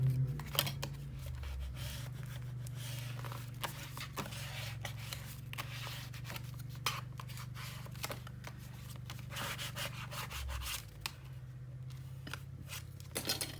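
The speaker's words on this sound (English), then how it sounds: "Let me do a good burnish." Firm rubbing and scraping as paper is burnished onto a Stamperia Fortune scrapbook mini album page, a steady close run of dry strokes under a low constant hum, no talking.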